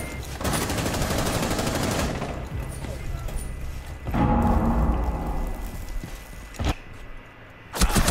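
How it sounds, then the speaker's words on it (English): Gunfire in the tactical shooter game Rainbow Six Siege comes as loud, rapid automatic bursts and scattered sharp shots, with voices chattering alongside. "Someone shot me through the wall, I think."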